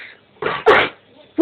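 A dog gives a couple of sharp, close sneezes, two quick bursts of breath in quick succession, with a brief start of another at the end.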